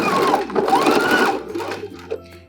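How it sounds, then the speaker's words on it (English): A sewing machine straight-stitches the long seam of a fabric neck gaiter, a close, steady mechanical whir with a rapid needle rhythm that slows near the end. "we're going to stitch from end to end along the long seam"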